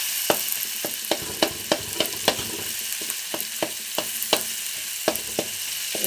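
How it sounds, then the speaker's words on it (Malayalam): Tomatoes and onions sautéing in a pan give a steady hiss of sizzling, broken by sharp, evenly spaced taps and scrapes of a spoon stirring, close up with no voices. "അപ്പോൾ നന്നായിട്ട് തക്കാളിയും ഉള്ളിയും ഒന്ന് വഴണ്ട് വരട്ടെ കേട്ടോ"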